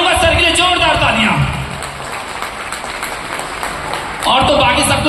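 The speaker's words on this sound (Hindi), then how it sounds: "मैं चाहूंगा सर के लिए जोरदार तालियां।" Audience applause at a business meeting swells for a few seconds between stretches of close amplified speech, a steady crackling patter of hands in a hall.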